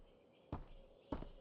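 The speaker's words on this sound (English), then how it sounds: "The sound that you guys just heard is stairs." Two soft, dull thuds about half a second apart mark footsteps on stairs in the survival shooter Road to Vostok, faint and muffled against a quiet background hum.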